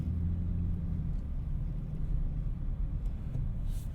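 A 2024 Ford F-150 Raptor R pickup creeping at full steering lock, its engine giving a steady, deep low rumble close by with no talking.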